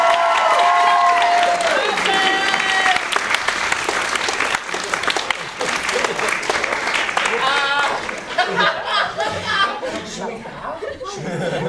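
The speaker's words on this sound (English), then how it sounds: "They were just applauding." An audience at a live show applauds loudly and at length, dense clapping filling the room with scattered cheers, chuckles and chatter, while a few high whistle-like tones rise above the noise early on.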